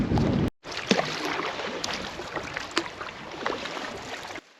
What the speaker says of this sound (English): Oh, wind's picking up again.